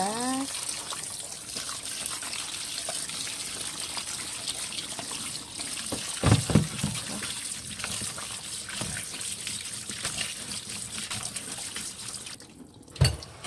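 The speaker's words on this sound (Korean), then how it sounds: "바로 이제 찬물에 헹궈주시면 되겠습니다" Boiled somen noodles are rinsed under cold running tap water, a steady trickling stream with brief louder splashes and clatters partway through and near the end.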